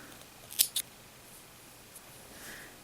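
Scissors snip yarn on a crocheted heart rug or doily, two quick crisp close snips in succession, then near silence.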